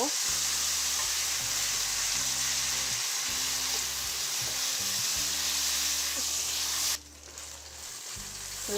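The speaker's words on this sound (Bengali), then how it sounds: "এখন সব কিছু আমি ভালো করে নেড়ে নেব" Ginger garlic paste frying and being stirred in a pan, a steady close sizzle under a low background hum, with a sudden drop in the sizzle near the end.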